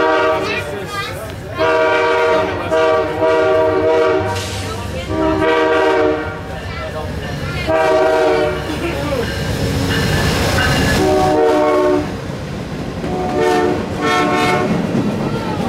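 An Amtrak P080 northbound passenger train roars past with its horn blaring in several long blasts, loud and close, rumbling and clattering steadily throughout.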